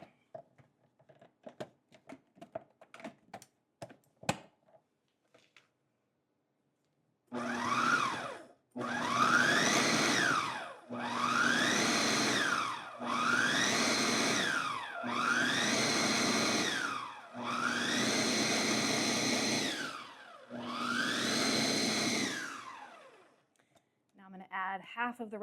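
A food processor pulses butter into flour for a pumpkin pie crust, running in six or seven loud, even bursts of a few seconds each, separated by short pauses. Brief handling clatter comes before the first pulse.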